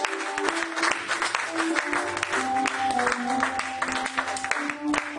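Church congregation applauding and cheering for the Lord, a steady dense wash of clapping with sustained singing or organ tones underneath, filling the room for several seconds.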